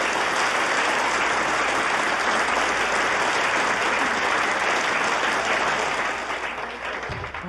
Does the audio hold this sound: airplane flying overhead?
no